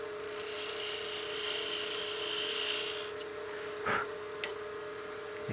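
A wood lathe spins a utility box blank while a negative rake scraper shaves it, giving a steady, loud rasping scrape for about three seconds before it stops, followed by a few light knocks and clicks.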